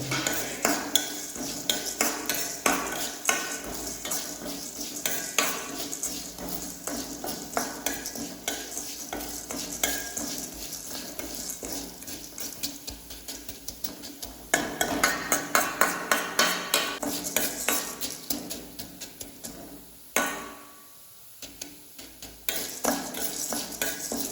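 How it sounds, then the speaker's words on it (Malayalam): Black pepper dry-roasting in a pan for Kerala-style rasam, with near, steady stirring scrapes and taps of a spoon against the pan over a faint crackle, briefly pausing before the stirring resumes. "കുരുമുളക് ഇതെല്ലാം ഏകദേശം മൂത്ത് തുടങ്ങിയിട്ടുണ്ട് കേട്ടോ."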